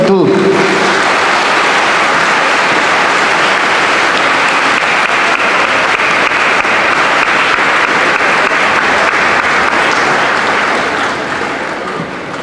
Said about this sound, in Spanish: lo recibamos como se merece, con un fuerte aplauso lleno de afecto y lleno de gratitud